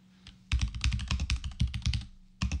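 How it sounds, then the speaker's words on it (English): Fast typing on a computer keyboard, close and clear, a dense run of clicking keystrokes after a quiet start, a brief pause, then another burst of keys. "Let me type something else."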